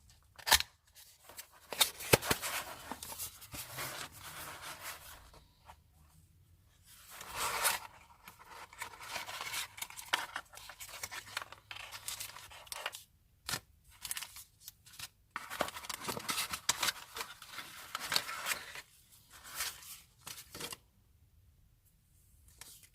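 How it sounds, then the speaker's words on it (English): Close rustling, crinkling and scraping of packaging as noise-cancelling earphones are unboxed, in intermittent bursts, with plastic and cardboard being handled, torn and slid apart between quiet pauses. "let us get the noise-canceling earphones out of its box"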